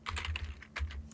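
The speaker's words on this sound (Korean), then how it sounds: "탭 버튼 눌러서 라이브" Key presses on a computer keyboard, including the Tab key, come as a quick run of soft, close clicks at low volume with no talk.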